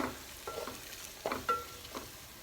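Bay leaf, cloves and mace fry in oil for a prawn dum biryani, a soft steady sizzle punctuated by several distinct scraping stirs, close and quiet, with no speech.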